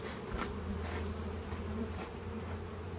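Honeybees from a package being installed into a hive drone steadily and close by, a continuous buzzing swarm with individual bees passing near.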